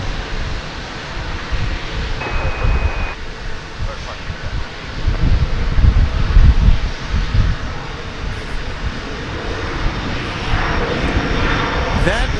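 An Airbus A320neo airliner at DFW Airport gives a steady engine roar throughout, swelling louder near the middle, with wind buffeting the microphone.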